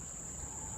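Crickets chirp in Bukit Batok Nature Park beside a lake, a steady high continuous trill that stays even and fairly loud over faint low background rumble, with no voices.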